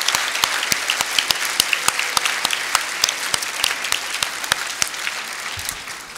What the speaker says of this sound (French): Là aussi, je crois qu'on peut vous applaudir,